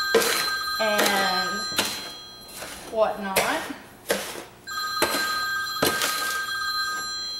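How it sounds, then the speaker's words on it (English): A telephone rings in a kitchen while bath salts are being made, several bursts of bright electronic ringing with pauses between, close by, with a person talking between rings. "When you know the phone would start ringing."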